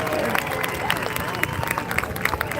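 An audience at a firefighter and police festival demonstration claps for a deputy and her police dog, a dense patter of applause with a voice talking over it.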